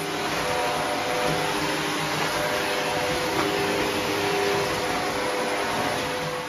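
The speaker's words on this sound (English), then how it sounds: "Right, I'm still hoovering." A household vacuum cleaner hoovering indoors during tidying, a steady close, loud broadband whoosh with constant motor hum throughout and no talk.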